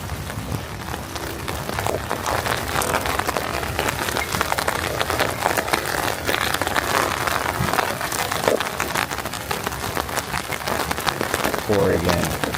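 Steady rain falls on a wet, cold day in Oregon, a dense continuous patter of drops on surfaces lasting throughout at even loudness, with a brief faint voice near the end.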